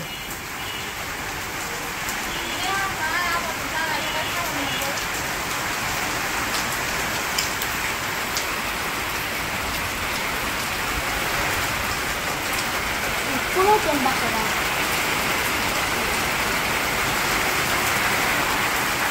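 Steady rain pours down in a village, a dense, even patter on surfaces that continues without pause from start to finish.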